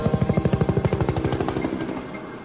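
A combat helicopter thunders close by, its rotor thudding in a fast, loud, even rhythm that slowly fades into a rushing drone.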